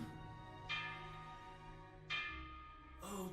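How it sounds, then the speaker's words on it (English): Bell strikes from the anime Fullmetal Alchemist: Brotherhood, three resonant tolls at roughly one-second intervals, each ringing out with a long shimmering decay over a low background hum. "There's the bell."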